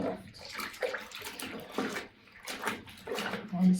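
Water sloshes and splashes as a wool jumper soaks in soft, soapy shampoo water, the irregular wet swishes rising and falling in short bursts at close range.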